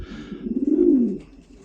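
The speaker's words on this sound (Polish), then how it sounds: "Zobaczcie na te gołąbki." A German racing pigeon coos close by, a soft low throaty warble rising and rolling for about a second.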